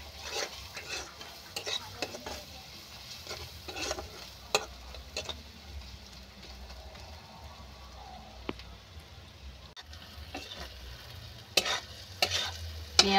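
Onion and garlic sauté in a pan for a fish curry, with a quiet continuous sizzle under repeated scraping stirs and occasional light clinks of a utensil against the pan.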